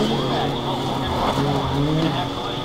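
Game car in Need for Speed Most Wanted 2012 spins out, tires squealing over a steady roaring engine, loud and continuous, with music and game sounds blended in.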